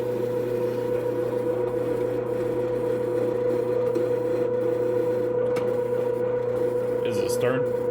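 A Toastmaster bread machine runs steadily, mixing cinnamon raisin dough, its motor a constant mechanical hum with faint rubbing throughout and a brief clatter near the end.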